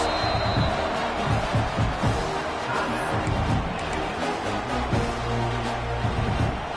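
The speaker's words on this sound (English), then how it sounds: "this crowd is coming to help the defense" Stadium crowd noise from a college football video game, a dense steady roar that swells and dips across the stretch, with game commentary speech layered over it.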